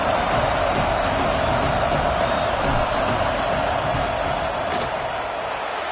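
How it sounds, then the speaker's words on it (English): A roaring stadium crowd in the college football video game NCAA 25 builds noise during a field goal attempt, a loud, constant wall of cheering and yelling with no pause. "This crowd trying to do its part to get inside the kicker's head."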